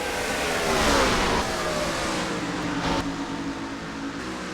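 Race cars in the NR2003 racing game on a Colorado Springs oval, engines whining and revving at high pitch in a loud continuous blend, with a brief swell as a car surges by.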